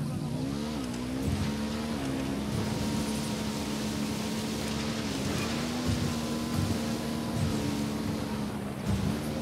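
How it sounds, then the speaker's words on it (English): Motorcycle engine droning steadily in Ghost Recon Wildlands as the bike is ridden, the pitch rising and dipping with throttle changes over a constant wash of wind and road noise. "I'm riding the motorcycle."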